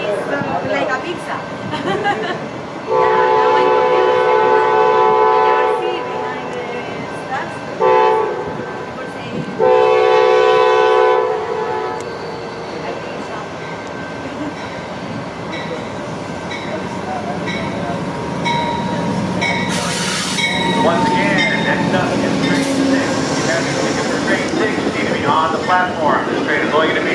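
Amtrak California Zephyr train 6 with P42 locomotive sounding its horn in loud, sustained blasts with short gaps, followed by steady rail rumble and station ambience.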